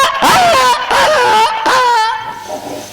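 A dog barks and yelps loudly and close by in a quick series of sharp, whining yips that trail off into a softer whimper.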